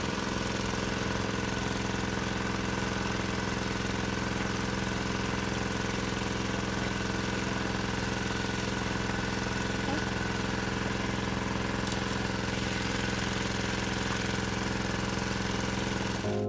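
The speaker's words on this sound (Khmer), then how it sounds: "មានម៉ាស៊ីនបូមទឹកខ្លាំងមួយ" A powerful water pump engine runs for well drilling, a loud continuous mechanical drone with steady low hum and rattle, unchanging throughout at close range.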